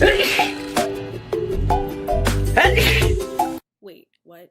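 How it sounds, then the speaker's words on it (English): A single sharp sneeze bursts out amid cheerful chatter, loud and close, followed by a short spoken reaction. "I've sneezed."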